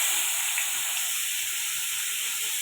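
Chopped onion with panch phoron spice mix sizzling in hot oil for a rohu fish and kohlrabi curry, a steady, close, even hiss that fills the whole moment with no talking.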